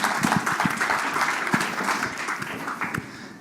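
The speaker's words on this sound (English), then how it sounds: "Round of applause." Audience applause at a conference talk, a short burst of dense clapping that starts strong and fades out after about three seconds.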